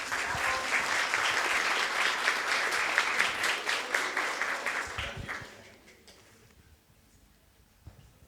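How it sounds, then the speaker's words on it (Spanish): An audience at a panel discussion claps for a speaker, with a dense round of applause for about five seconds that then thins out and fades to near quiet. "otro aplauso al doctor Alfonso Torres Hernández"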